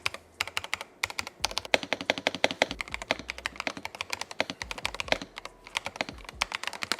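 Rapid typing on a Higround mechanical keyboard, with close, crisp key clacks in quick uneven bursts and deeper thocks from the space bar, steady throughout with no voices.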